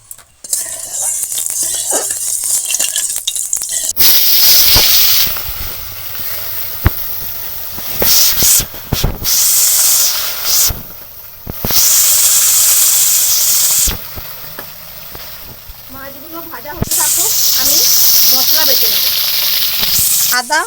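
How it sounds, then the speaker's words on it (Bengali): Fish frying in hot oil in a wok: a loud, steady sizzling hiss that surges and drops as pieces are stirred and turned, with brief clanks, running alone without talk. "তেল দিয়ে আমি মাছগুলো ভালো করে ভেজে নেব"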